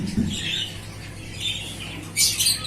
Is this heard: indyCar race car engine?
no